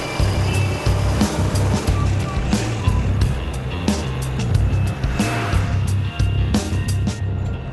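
Cars set off and drive over rough ground, a loud close engine rumble with bumping, rattling and wind noise throughout, pulsing unevenly over several seconds.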